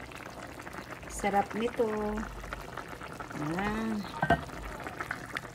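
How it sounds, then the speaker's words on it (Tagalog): A pot of chicken tinola loaded with mushrooms bubbles and simmers at a rolling boil, a close watery churn running beneath a person talking. "Kumulo-kulo na ang aking tinolang manok na maraming sahog na mushroom."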